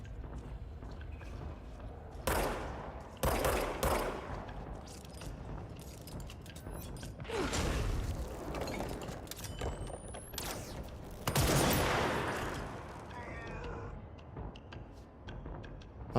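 Sniper gunfire in the video game Control: several sharp, loud shots burst out at uneven intervals over a steady background of game ambience, with no talking.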